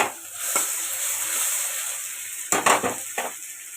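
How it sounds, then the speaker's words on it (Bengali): Garlic fries in oil in a pan with an even, close sizzle. Clustered scrapes and clinks of a spatula stirring rise above it toward the end, with no voices present. "এর মধ্যে দিয়ে দেবো আমি রসুন,"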